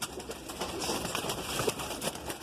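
A red female Andhra pigeon coos softly and steadily at close range, with faint background noise and no talking.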